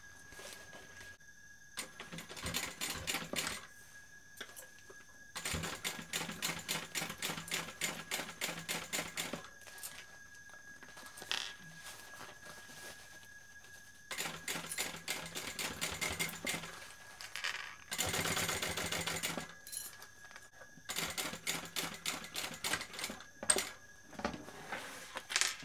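A sewing machine basting a seam on a fabric bag, running in several rapid rattling bursts of a few seconds each, separated by short pauses, fairly quiet and without talk.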